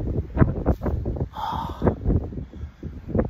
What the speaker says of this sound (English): But that's windy as hell.